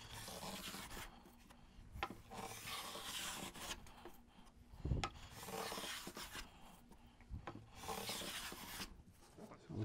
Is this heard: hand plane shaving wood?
yes